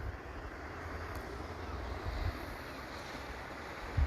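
Ocean waves and wind at the coast make a low, continuous rumbling wash with gusty buffeting over it and a couple of brief thumps, at moderate level with no speech.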